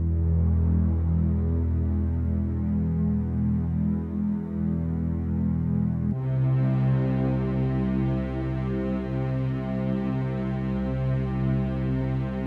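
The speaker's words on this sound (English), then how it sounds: "I added a low synth and low string sound. I'll play them all together because they're pretty much doing similar notes" Low synth and low strings play the same notes together, one part an octave below the other, as a steady, loud sustained low drone that thickens with a brighter layer of added harmonics about halfway through.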